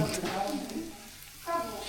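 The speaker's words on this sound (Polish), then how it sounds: "A mama smaży placki." Pancakes frying in a pan give off a steady, close sizzle, with a voice talking over it.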